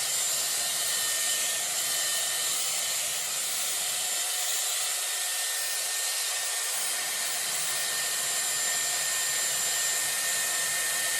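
A Dyson Airwrap round brush blows a loud, continuous hiss of air while blow-drying hair. The rush keeps going throughout, with a brief dip in its deeper rumble midway through.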